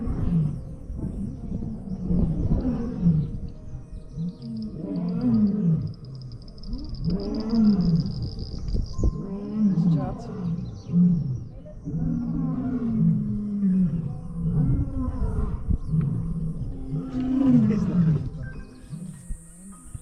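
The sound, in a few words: lions roaring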